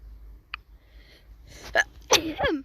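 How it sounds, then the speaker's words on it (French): A single sneeze bursts out near the mic around the middle, followed by a short voiced trailing sound, with a faint click beforehand and a quiet room otherwise. "Excusez-moi, j'ai encore éternué donc j'ai coupé"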